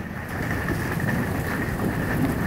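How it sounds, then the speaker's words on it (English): Steady, heavy rain pouring down during a thunderstorm, a continuous hiss with a low rumble beneath it, close and constant with no voices. "it is raining"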